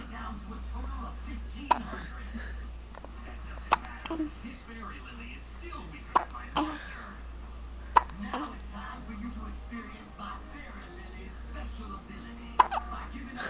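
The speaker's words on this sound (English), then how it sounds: "You got hiccups." Repeated sharp hiccups from a person, spaced a few seconds apart over a low steady background hum, with quiet voices around them.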